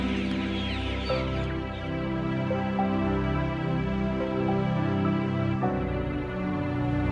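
Hens in battery cages inside a laying warehouse cluck and murmur continuously, a dense chorus of overlapping calls, close and moderately loud.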